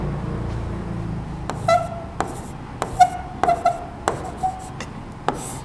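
Chalk or marker writing a chemical formula on a board, heard as a series of short, distinct taps and strokes spaced irregularly, close and fairly clear over a quiet room hum, with no talking.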